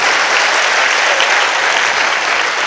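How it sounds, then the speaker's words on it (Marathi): A large audience at a kirtan bursts into loud, dense applause, many hands clapping steadily and evenly for a few seconds with no pauses. "एकदा कडकडून टाळ्या वाजा मावल्या"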